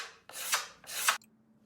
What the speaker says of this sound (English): scrape off the excess glue once it's almost fully cured